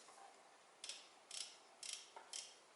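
A socket wrench ratchets in four short, clicking bursts, close and quiet in an otherwise still room, with no voices.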